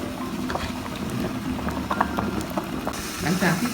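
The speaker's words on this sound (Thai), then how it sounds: "แกงของเราเดือด" Thai taro curry simmering in a pot, a steady bubbling boil with scattered pops and a light sizzle throughout, heard close and moderately loud with no voices.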